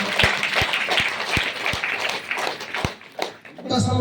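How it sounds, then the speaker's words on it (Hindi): A hall audience at a DXN meeting in Badlapur claps loudly together, with a series of deep rhythmic thumps pulsing under the applause before a voice begins speaking at the end. "ताली हो जाए"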